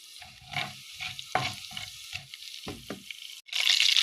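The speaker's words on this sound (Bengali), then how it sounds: "সরিষার তেল গরম হয়ে গেছে, এখন দিম খালি জিরা।" Cumin seeds are dropped into hot mustard oil, and a sizzle follows with scraping and stirring strokes in an uneven rhythm, close and moderately loud, ending in a sharp burst of crackling.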